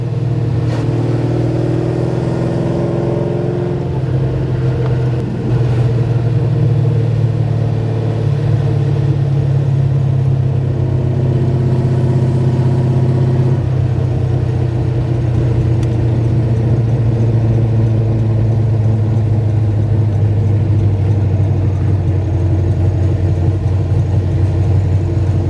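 Big 660 hp Mopar V8 in a 1969 Plymouth Road Runner, heard from inside while driving, a deep steady rumble that climbs and shifts pitch as it accelerates, loud and continuous with no talk.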